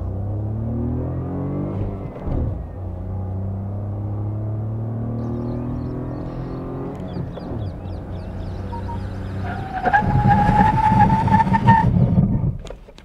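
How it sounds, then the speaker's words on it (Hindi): A 2024 Maruti Swift, disc brakes at the front and drums at the back, stopping hard from 70 km/h: a steady engine and road drone gives way to a loud, sustained tyre squeal near the end, with no talking. "I'll take the car to 70 kilometers an hour and stand on the brake pedal"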